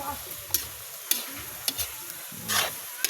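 Food sizzles steadily in a frying pan while a utensil scrapes and stirs it, giving sharp intermittent clatters over the constant hiss.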